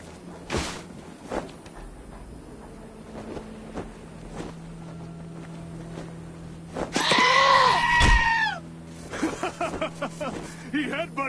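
A goat bleats loudly and butts a character in the Wasteland 2 video game, with a sharp impact thud among scattered game effects, footsteps and talking voices.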